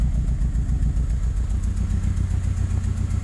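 Saab 9-3 Aero running with a dark, throaty exhaust, a loud, steady close-up engine rumble with a pulsing low burble and a light mechanical clatter, no talk.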